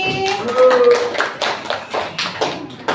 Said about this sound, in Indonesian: Beri tepuk tangan untuk kelompok Naudi.